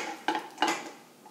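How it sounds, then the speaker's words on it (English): Metal spoon stirring powdered bouillon ingredients by hand in a bowl, two distinct clinking scrapes close to the mic, with no talking. "we're gonna get a spoon and stir that"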